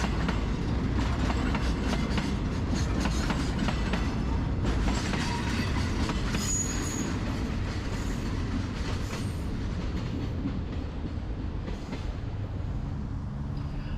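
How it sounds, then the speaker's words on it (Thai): A long freight train of oil tank cars rolls steadily past nearby in Thailand, wheels rumbling and clacking continuously with occasional faint metallic squeals; no talking. "ผมมาเจอ รถไฟวิ่งพอดีเลยส่วนมากจะเป็นรถพวกพวกน้ำมัน"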